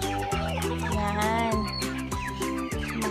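Several chickens cluck and squawk close by in a busy, overlapping chorus, with sharp calls repeating every half second or so.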